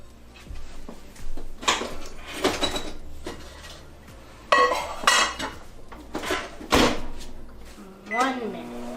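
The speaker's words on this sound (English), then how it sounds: "we're going to put this plate in the microwave and heat it up for 1 minute" A plate clatters and knocks as it is set inside a microwave, with several sharp dish and door clunks, then a short series of electronic beeps near the end, while people talk nearby.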